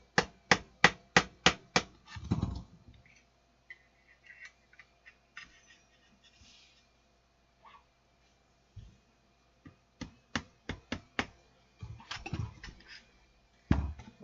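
A screwdriver taps sharply on stuck screws of an old-school Kicker Si200 car amplifier: a rapid run of about six close, loud knocks, then sparse quiet handling, and another burst of taps near the end.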